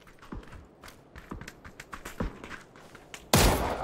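Gunfire in a battle royale shooter game, a few sharp shots spaced irregularly over a low ambient background, ending in a louder burst of noise, with no talk.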